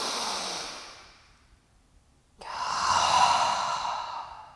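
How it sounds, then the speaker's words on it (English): Deep breathing during a slow-flow yoga session: a long, fading exhale, a brief pause, then a loud full breath that swells and holds, close and alone with no talk. "Deep breath."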